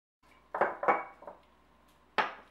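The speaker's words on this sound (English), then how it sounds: "1/4 cup of water. I'm just going to stir that around." Water being stirred into a mixture in a bowl for spicy beef and vegetable soup (yukgaejang): three or four distinct clinks of a utensil against the bowl, fairly close, with quiet gaps between, no talking.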